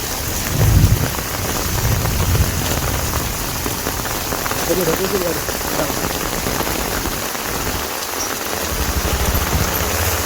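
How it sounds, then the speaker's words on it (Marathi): Heavy monsoon downpour in a Konkan village during unseasonal flooding, a loud, steady roar of rain with low thunder rumbling under it throughout. "पाऊस जाम आहे पाऊस जाम आहे"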